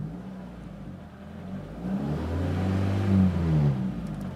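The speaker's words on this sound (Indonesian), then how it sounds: "sekarang akan saya coba untuk memainkan gasnya." Mitsubishi Lancer engine revved by pressing the throttle after a check-engine light came on, a low mid-range hum that climbs and swells in pitch for a couple of seconds, then eases back, heard close with no talking.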